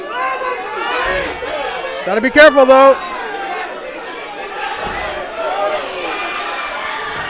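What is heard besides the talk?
fight crowd yelling for knees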